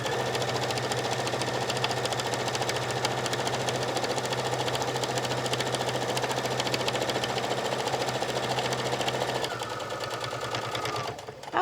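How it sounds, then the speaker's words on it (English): A sewing machine runs in a steady, rapid mechanical whir while stitching around a circular fabric jewelry pouch, loud and continuous, then slows and shifts tone near the end before stopping. "So we'll back stitch a little."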